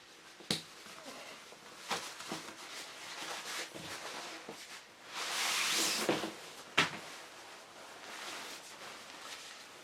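Handling and opening the stuff sack of a Get Out Gear down puffy blanket: scattered crinkly rustles and sharp fabric snaps, with one louder swishing pull of nylon in the middle, fairly close and otherwise quiet.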